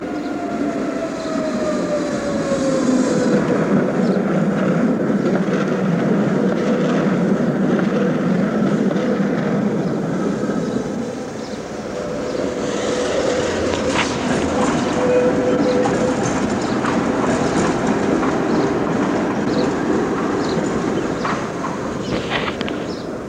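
Old Berlin trams run through a four-track tram terminus, with a loud, continuous rumble and rolling rail noise, a drawn-out squeal of wheels and brief clanks, and no one speaking.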